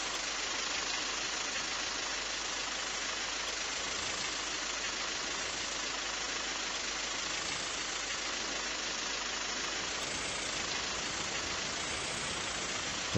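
A tractor engine in Farming Simulator 22 runs as a steady, unbroken mid-pitched drone at moderate volume for the whole stretch, with no change in speed or load.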